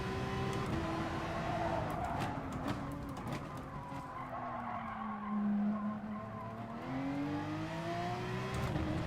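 A Porsche race car engine in the GT Sport video game, droning steadily with rising and falling revs and tire squeal through corners, heard from the car at moderate loudness without talk.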